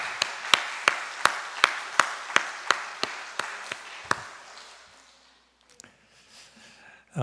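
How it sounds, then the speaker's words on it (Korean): A congregation in a church claps in a steady, evenly spaced rhythm of about a dozen sharp claps that gradually fade and trail off into near quiet. "우리 찬양한 아가페 위원들에게 우리 다시 한번 따뜻한 박수 보내겠습니다"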